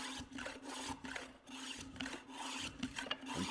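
Hand plane shaving a long wooden stick, repeated rasping strokes in an uneven short-long rhythm, close and quiet, with brief pauses between passes.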